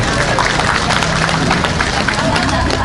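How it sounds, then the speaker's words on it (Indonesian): An audience at an Islamic sermon in Cempaka Putih claps on cue, a dense roar of crowd applause blended with general hubbub and background chatter. "Tepuk tangan dulu."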